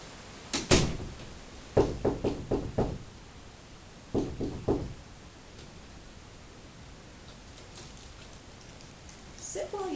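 Two bursts of sharp knocks on a door, a rapid cluster of about six raps, then a pause and a shorter set of three.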